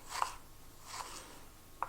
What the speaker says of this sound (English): you kind of chop a shallot like thinly